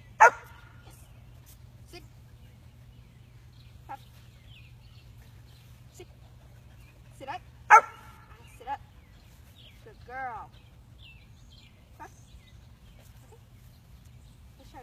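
A 6-month-old German Shepherd gives a few sharp, isolated barks and yips on command during training, spaced out among quiet stretches, with a person giving short commands nearby.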